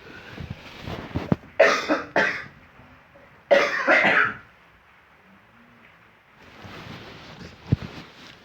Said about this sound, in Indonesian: Mohon maaf apabila kakak batuk karena memang posisi kakak lagi sakit.